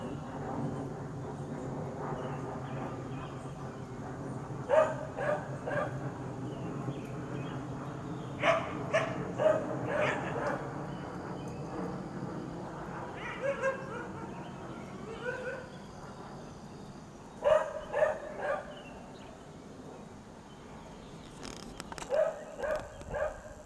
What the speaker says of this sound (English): that's what's causing this dog to bark.